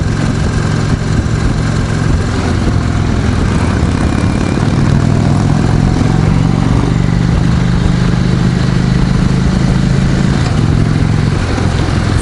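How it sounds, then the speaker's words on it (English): A 2016 Indian Springfield motorcycle engine runs steadily at idle, a loud, continuous low rumble with an even throb and no talking. "It's just a fine engine."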